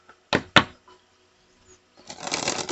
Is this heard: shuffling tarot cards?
yes